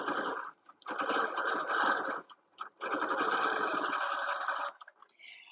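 A sewing machine quilting leaf shapes on a quilt top hums in long continuous runs, broken by brief stops and a couple of short pauses, close and loud with no voices.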